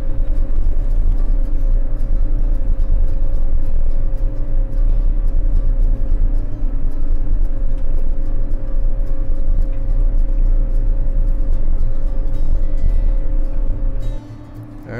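A John Deere sugar cane harvester drives at about 4 mph, its engine giving a loud, steady low rumble with a constant drone that runs throughout and drops off sharply at the very end.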